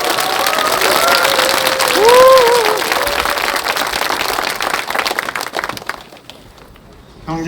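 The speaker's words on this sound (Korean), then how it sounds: "네, 크게 박수 치시기 바랍니다" A packed Catholic cathedral congregation at a protest Mass applauds steadily and loudly, with a brief voice rising over the dense clapping before it thins and stops near the end.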